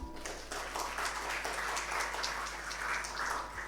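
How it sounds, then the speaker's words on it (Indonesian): An audience in a school hall at a Halal Bihalal gathering for SMP Hang Tuah 1 Surabaya claps steadily for a few seconds, a soft, diffuse patter heard from a distance with a constant low hum underneath. "Tepuk tangan."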